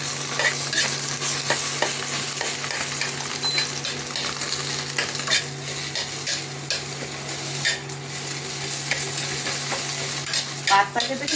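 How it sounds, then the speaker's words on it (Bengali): An egg is cracked and beaten in a bowl while making chili pasta, with brisk, irregular clinks and taps of a utensil against the dish over a steady background hiss. "গুঁড়ো করে নেব ডিমটা"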